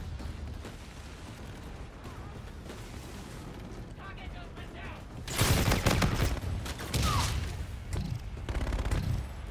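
Bursts of UMP submachine gun fire in a tactical shooter game crackle under game radio chatter, turning loud and dense in the second half with rapid volleys over a steady noisy bed.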